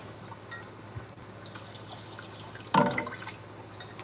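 Water pours into rice in a skillet, a soft trickling and splashing that swells into a fuller gush near the end, close and moderately quiet over light background noise.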